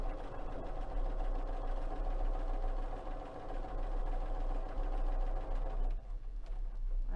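A sewing machine runs slowly and steadily, stitching through the thick center of a hooded towel with a continuous close mechanical whir that dips briefly near the end.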